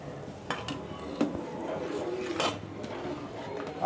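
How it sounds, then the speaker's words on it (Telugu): Bombay rava semolina being stirred into boiling salted water in a metal pot for tomato bath: quick ladle scrapes and clanks against the pot over a low bubbling hiss, close and brief. "ఇప్పుడు ఈ బొంబాయి రవ్వ దీంట్లో కలుపుకుందాం."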